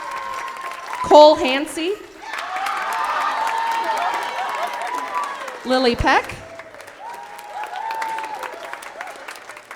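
Audience at a school spring combined band concert clapping and cheering for band students, sustained applause with whoops under a voice announcing names over a loudspeaker, the clapping swelling between announcements.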